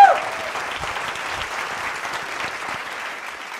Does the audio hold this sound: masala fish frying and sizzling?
no